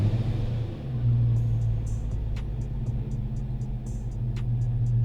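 A Procharger-supercharged, BTR-cammed 6.2L GMC Denali runs at wide open throttle in third gear on a dyno, a steady, heavy engine drone that swells and holds loud throughout, with faint ticking clicks on top.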